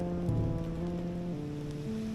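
Heavy rain pouring down in the woods, a steady dense patter on leaves and ground that fills the whole stretch with a constant wash at close range.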